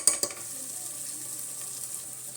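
Spices for chicken biryani fry in a hot pan, two sharp knocks of a stirring spoon at the start, then an even, bright sizzle that carries on unbroken close by.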